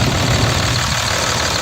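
A 2005 Dodge Ram 2500 with a 5.9 liter Cummins diesel runs at a steady idle, its deep low rumble and clattering knock loud and constant throughout, with no talking.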